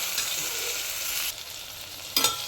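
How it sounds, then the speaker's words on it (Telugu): Tomatoes, onions and potatoes fry in hot oil with a steady, bright sizzle that drops briefly, then returns with a couple of sharper stirring crackles near the end. "ఈ టమాటాలు, ఆనియన్స్, ఆలు ఇవన్నీ ఫ్రై అవ్వాలి."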